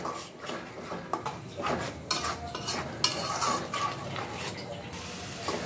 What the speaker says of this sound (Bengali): এভাবে একটু ধৈর্য ধরে নেড়ে নিব যতক্ষণ জলটা না শুকায়।